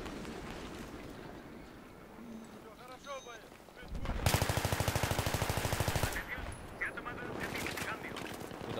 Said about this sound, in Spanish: nos están disparando